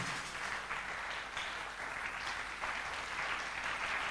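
A church congregation applauds with sustained, moderately distant clapping that swells and holds steady, a continuous wash of many hands with no clear speech over it.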